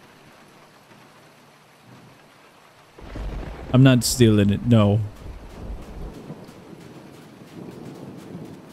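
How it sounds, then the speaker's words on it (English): A thunder and lightning strike sounds amid rain in the video game A Dusty Trip, a low rumble swelling midway while someone speaks over it, then easing back into a soft rainy hiss. "You guys got struck by lightning."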